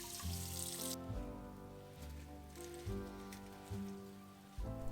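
Running water pours and splashes as beef omasum is rinsed in a kitchen, a steady hiss with several softer gushes and shifts as the flow strikes the tripe.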